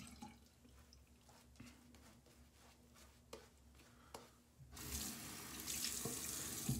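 Scattered close drips tap into a sink while shaving soap lather is built up, then a tap opens and water runs steadily and loudly for the last couple of seconds.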